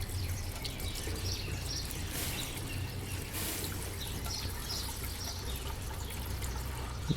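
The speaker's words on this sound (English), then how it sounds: "I'll throw some water in it and we'll see how much it takes." Water is poured from a container into a race car's cooling system, a steady close trickle and splash that runs without a break for several seconds, with no talking over it.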